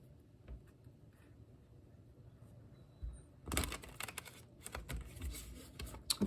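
A tarot card deck being shuffled, a faint low rumble giving way to a run of crisp riffling card flutters and taps, close and quiet, with no talk.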